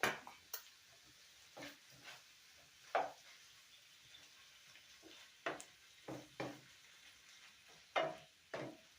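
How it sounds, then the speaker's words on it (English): Tomato sauce is stirred into a sloppy joe mixture in a pan, giving quiet scraping strokes of a spoon against the pan that come in short separate bursts with near-silent gaps between them. "So just stir that in."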